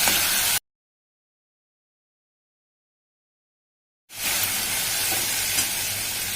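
Washed moong dal is stirred into hot spiced oil with garam masala, giving a close, steady sizzle and hiss. The sizzle breaks off into a few seconds of total silence, then resumes just as strongly.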